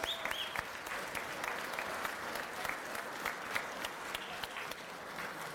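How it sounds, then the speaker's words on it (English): Applause fills a sports awards banquet and Hall of Fame ceremony, a crowd clapping steadily at fairly low volume for the whole stretch, with sharper individual claps standing out now and then. "Would you please join me in a round of applause for those guys?"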